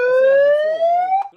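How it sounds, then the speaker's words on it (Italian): A loud electronic siren is tested with one rising wail that starts close and steady, climbs in pitch, then cuts off abruptly. "La sirena funziona."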